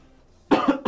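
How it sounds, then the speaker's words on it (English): A person clears their throat in two short, loud, rasping bursts after a brief quiet moment, close to the microphone. "I'm sorry that I'm constantly, like, clearing my throat."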